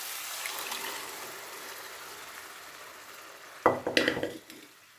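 Tomatoes being stirred and sautéed in a pan for a mutton rib bone gravy: a steady soft sizzle runs throughout, then a burst of louder scraping and clinking strokes near the end.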